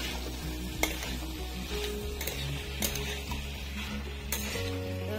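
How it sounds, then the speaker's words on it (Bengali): Chopped tomatoes and potatoes sizzle steadily in a frying pan while a utensil stirs and scrapes, with occasional clinks against the metal, close and continuous. "এখন টমেটো কুচি কটা দিয়ে দিলাম, দিয়ে নেড়ে চেড়ে নেই"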